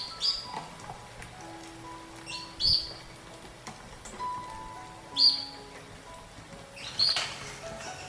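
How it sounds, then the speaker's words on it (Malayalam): Pet birds chirp noisily in the morning, with four sharp high calls spaced a couple of seconds apart over a soft, steady background hiss. "കിളികൾ ഇന്നെ കണ്ടാൽ തുടങ്ങും കേട്ടോ ഇങ്ങനെ കരയല് രാവിലെ"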